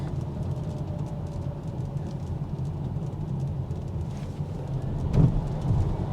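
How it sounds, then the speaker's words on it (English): A Polestar 2 electric car accelerates hard on a wet road, with a steady low rumble of tyres and spray. It swells briefly into a louder surge of wheel spin near the end. No one speaks. "A little bit of wheel spin there, so definitely some good acceleration."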